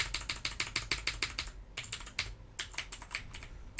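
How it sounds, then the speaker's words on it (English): Fast computer keyboard typing, close and fairly loud, in two bursts of clustered keystrokes with a brief pause between them, no voices. "you must be able to hear me on the keyboard there"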